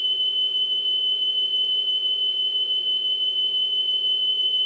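A steady, piercing high-pitched sine test tone plays from a NuTone IM4006 intercom cassette player during motor speed adjustment, constant in pitch and loudness throughout over a faint hum.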